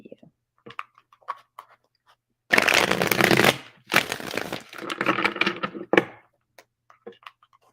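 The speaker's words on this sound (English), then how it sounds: "Let me pull some cards for you." Tarot cards being shuffled close up in two loud bursts of riffling and slapping, about a second and a half each, with a brief pause between and a few soft card taps before and after.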